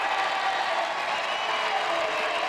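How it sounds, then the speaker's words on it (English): Basketball crowd at the Nutter Center during a men's college game against Green Bay, a steady broad roar of cheering and noise filling the arena without a break. "Nutter Center crowd is loving it right now. They are loud and they are proud"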